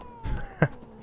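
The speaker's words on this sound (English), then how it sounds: "The cat's really freaking out." A cat in the video game The Witcher 3 gives a short meow, a quick soft call followed by a sharper brief cry, close and fairly faint over a quiet background.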